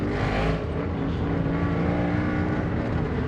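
A Mazda RX4 pulling away slowly, its engine a steady, continuous drone with a low rumble that holds at an even level throughout, close by and with no voices over it.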